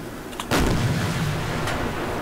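On a submarine in Silent Hunter IV, the deck gun fires a single heavy boom, followed by a long rumbling echo and a fainter second report.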